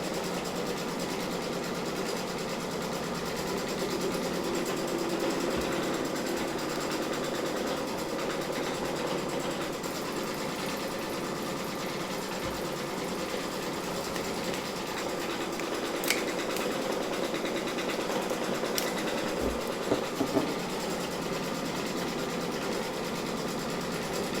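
A Brother Innovis V5LE embroidery sewing machine stitching an in-the-hoop coaster, giving a steady, continuous mechanical hum and whir for the whole stretch with a few faint ticks near the end, and no talking.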